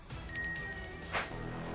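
A cartoon bell rings once to start a monster brawl, a bright metallic ding that lingers and overlaps a swooshing effect and a busy music bed.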